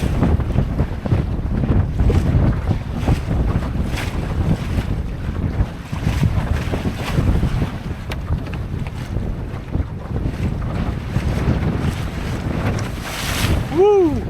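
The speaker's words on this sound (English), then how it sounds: "Some waves here." Waves slapping against the hull of a small Drascombe Lugger sailboat under sail, with steady wind noise buffeting the microphone throughout and a brief whistle-like tone near the end.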